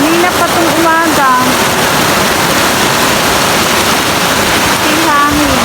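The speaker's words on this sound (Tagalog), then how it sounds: "grabe, ang lakas ng ulan" Heavy typhoon rain pours in Bataan, a loud, dense, unbroken roar close by, with a voice talking over it at the start and again near the end.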